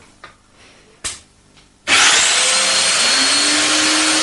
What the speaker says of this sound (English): Drill the first 2 holes as before.